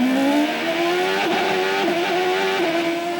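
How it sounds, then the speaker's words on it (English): A 2003 CART race car with a turbocharged Ford engine revs hard at the Molson Indy Montreal, its high engine note climbing steadily and wavering as the rear wheels spin, loud and continuous with crowd and track noise behind. "listen to the wheel spin. When the Ford engine, the turbo hits more abruptly than years past."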